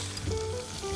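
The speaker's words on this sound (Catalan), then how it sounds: "Ja tenim sofregida la ceba i la pastanaga i l'all." Onion, carrot and garlic fry in a pan with a steady, close sizzle and low crackling, heard alone for a brief moment.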